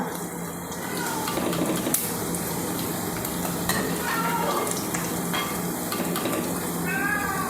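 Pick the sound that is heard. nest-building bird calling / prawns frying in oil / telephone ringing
prawns frying in oil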